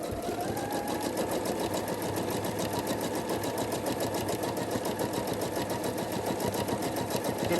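Sewing machine doing free-motion stitching on fabric, running continuously at a fast, even rhythmic chatter of needle strokes for several seconds, close and fairly loud with no speech.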